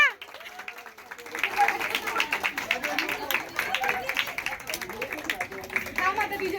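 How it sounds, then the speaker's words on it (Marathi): A group of people clapping hands at a family pre-wedding celebration, uneven mid-level clapping that continues over chatter and voices nearby. "अरे टाळ्या वाजवा."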